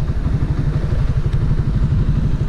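Yamaha YZF R125 motorcycle engine lugging and stuttering under a clumsy clutch engagement, a loud, close, uneven low chug with rattly pulses and no speech.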